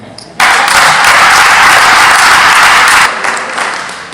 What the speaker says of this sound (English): Y'all give her a hand.